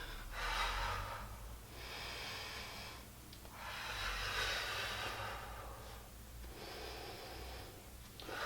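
Slow, deliberate breathing during a thoracic rotation exercise, long hissing inhales and exhales alternating about every two seconds, close to the microphone over a low background hum.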